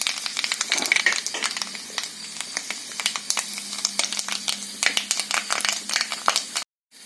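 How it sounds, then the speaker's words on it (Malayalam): Mustard seeds and a pinch of fenugreek pop in hot oil for a prawn curry with kudampuli, a busy run of close, sharp crackles over a soft sizzle that cuts off abruptly near the end. "കാൽ ടീസ്പൂൺ കടുകും കൂടി ഇട്ടൊന്ന് പൊട്ടിച്ചെടുക്കാം"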